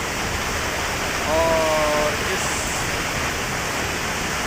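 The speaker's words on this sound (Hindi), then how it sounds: "झरने के झरझर की आवाज़ के साथ हो जाए" The Tiger Point waterfall in Mainpat, Chhattisgarh, gives off a steady, broad rushing roar that fills the whole clip, with a brief voice speaking over it.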